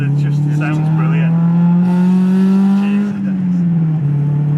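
A Honda Civic Type R EK9 engine drones loudly from the cabin while driving, its tone holding steady then rising slightly before easing off, with a voice talking briefly over it near the start.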